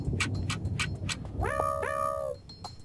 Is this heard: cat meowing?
yes